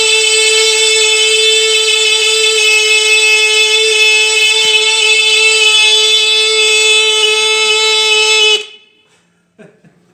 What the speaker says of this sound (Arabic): اليوم إن شاء الله غادي نحاولوا نصنعوا واحد الجهاز ديال الإنذار